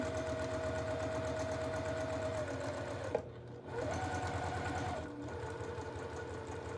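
A sewing machine runs steadily, stitching two fabric pieces together for a butterfly quilt block, with a brief pause and restart midway; the motor hum and rapid needle rhythm stay close and loud throughout.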